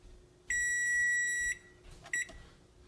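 Kitchen timer reaching zero while white rice cooks on the stove: a long electronic beep of about a second, then a short double beep, clear and close in a quiet room.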